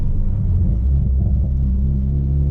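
A boosted Honda Accord engine pulls hard in second gear, giving a loud, steady, deep rumble from start to finish with no voices.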